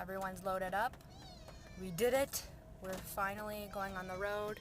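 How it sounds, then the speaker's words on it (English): Two cats meow repeatedly inside a car setting off on a moving trip, loud, drawn-out and complaining in several bursts, with people talking over and between the cries. "Thank God, that's just a cat."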